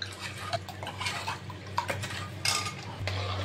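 A spoon stirs milk with a pinch of edible camphor in a metal pot, giving close, irregular scraping and light clinking against the pot with small liquid swishes.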